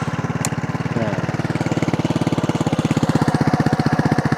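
A Scomadi Technica 200i Urban scooter idles on its stock perforated-plate exhaust, a steady, deep, throbbing putter with an even pulse, close and alone.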